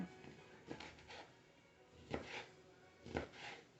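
A knife chops peppers and an onion against a cutting board in a few separate sharp knocks, spaced irregularly and fairly quiet, with no talking.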